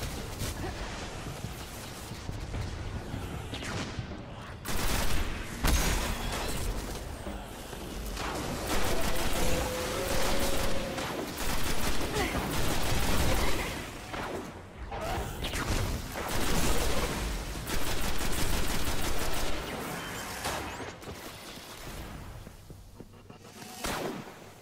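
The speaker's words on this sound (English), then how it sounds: "Don't be shooting that crap at me." Gunfire and explosive impacts in the video game Destiny, a dense continuous barrage of loud shots, blasts and whooshing effects with brief dips in intensity throughout.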